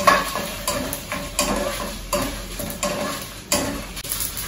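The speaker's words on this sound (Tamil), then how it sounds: "எண்ணெய் இல்லாம நம்ம போடுறது எல்லாமே பாருங்க நல்லா பொரியுது கடுகு" Mustard seeds, cumin and fenugreek dry roasting in a pan without oil, with steady crackling pops and repeated stirring scrapes close by, no voices.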